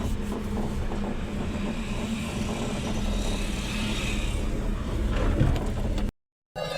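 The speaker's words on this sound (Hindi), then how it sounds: "देख सकते हैं गाड़ी कितनी बुरी तरीके से मिसिंग कर रही है।" Maruti Suzuki WagonR with a K-series engine, misfiring badly as it idles, heard close as an uneven, rough engine chug under steady noise. No one talks, and the sound cuts out briefly near the end.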